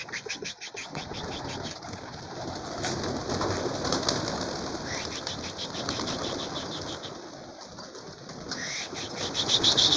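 Homing pigeons released from a loft, with a continuous wash of flapping wings and fluttering as a flock takes off, soft cooing mixed in and steady outdoor background noise throughout, no talking.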